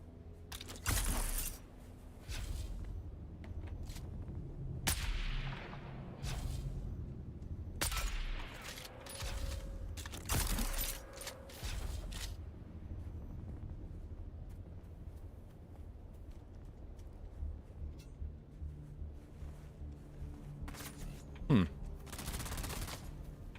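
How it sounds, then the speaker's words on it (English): Automatic turret fire in a video game comes in loud, rapid bursts separated by quieter stretches, with a final burst near the end. "He's fighting people with a turret?"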